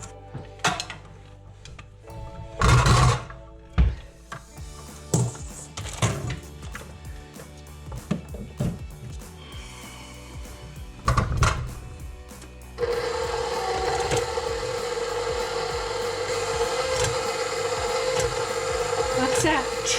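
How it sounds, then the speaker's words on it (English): A KitchenAid stand mixer mixing in flour clatters in irregular knocks at first, then settles into a steady whirring motor drone from about halfway through. The sound is close and fairly loud. "let's have a listen to the KitchenAid"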